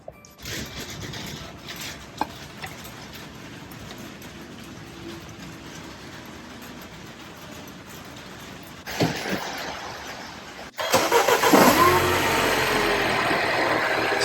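An R56 MINI Cooper S sits with a quiet, steady hum before its engine comes in with a louder, broadband running roar that holds to the end.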